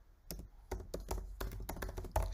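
Typing on a computer keyboard, a run of close, crisp key taps in an uneven rhythm, clear and alone with no voices.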